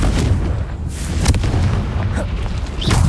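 A Confringo blasting spell detonates in the Hogwarts Legacy video game, giving loud, dense booming blasts with crackling bursts over continuous game noise, close and sustained for a few seconds.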